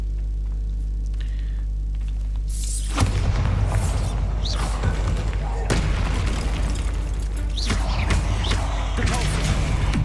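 The Bombarda explosion spell from the Hogwarts Legacy video game goes off as a deep boom followed by crackling bursts and thuds, loud against an ongoing game hum.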